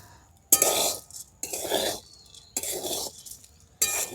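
Rice for chal vaja being stirred in a pan over low heat, with four distinct scraping strokes separated by short pauses and no talking.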